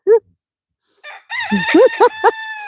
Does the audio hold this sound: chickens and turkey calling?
yes